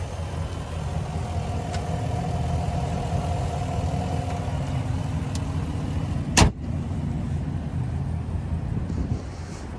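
Naturally aspirated 5.3 liter V8 in a 2022 GMC Yukon XL SLT idling, a steady low rumble heard from nearby, with a single sharp click partway through.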